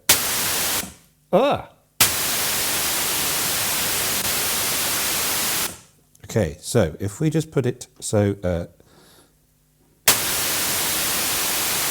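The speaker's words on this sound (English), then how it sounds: "it's either white noise or pink noise." Bursts of loud hissing white noise from a Behringer Odyssey synthesizer cut in and out abruptly, separated by a stretch of someone talking, then the hiss returns steadily.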